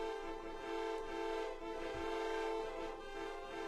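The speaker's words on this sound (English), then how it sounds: "So someone's honking Undertale themes." Car horns from the car section of the video game Deltarune hold long sustained honking tones, a steady, faint chord of horns layered together without pause.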